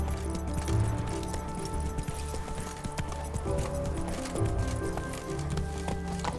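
Horse hooves clip-clop steadily in The Witcher 3, a rhythmic trotting patter under game music and ambient noise, moderately close and continuous.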